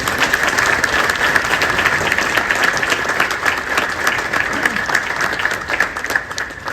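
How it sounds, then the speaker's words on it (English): A crowd gives a steady round of applause at a train naming ceremony for Network SouthEast unit 465908 at London Charing Cross, dense clapping filling the whole stretch at an even, loud level with a faint voice underneath. "Round of applause, please, to those."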